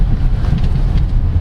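A 2022 Chevrolet Tracker's three-cylinder engine hums steadily while driving, a constant low drone mixed with road and wind rumble from inside the cabin, with no talk.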